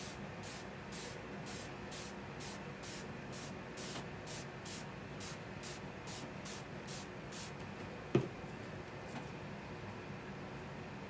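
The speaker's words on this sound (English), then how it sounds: "Then I'm going to spray it with water." A rapid, steady series of short hissing spritzes from a spray bottle, about fifteen quick pumps in a row, fairly quiet and close.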